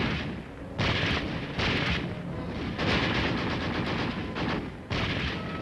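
Artillery and gunfire in street fighting at Taejon in a Korean War film, loud repeated blasts and crackling bursts of shots, dense and continuous with brief lulls, no talking.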